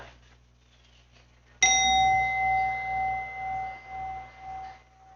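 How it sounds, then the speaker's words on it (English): A single stroke on a meditation chime rings out after a moment of near silence, with a crisp attack and a pure sustained tone that wavers gently as it decays, heard alone. "And the third chime."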